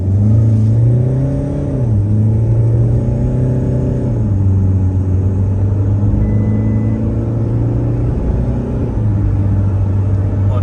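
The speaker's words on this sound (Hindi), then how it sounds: "महिंद्रा 2200 सीसी का इंजन डीजल वाला देखते हैं भाई 0 to 100 कितनी देर में जाता है" A Mahindra XUV500 with a 2200cc diesel engine accelerating from 0 to 100, a loud, steady engine drone that climbs and drops at each gear change, heard close and alone for about ten seconds.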